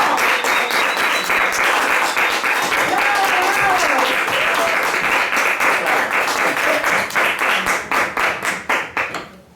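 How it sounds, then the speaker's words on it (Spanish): A live audience gives a strong round of applause to welcome a storyteller and writer onto a talk show. Dense clapping holds steady for several seconds, then thins into separate claps and fades out. "Démosle un fuerte aplauso a León Contón."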